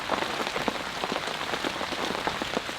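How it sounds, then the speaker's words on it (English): Steady rain pattering on a camp during a powerful storm, a dense continuous patter with individual drops hitting a surface nearby, loud and unbroken with no voices. "It sounds like the rain is slacking off now."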